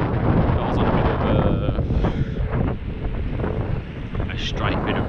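Strong headwind buffets the microphone while riding a Xiaomi Pro 2 electric scooter, a loud continuous roaring rumble of wind noise throughout.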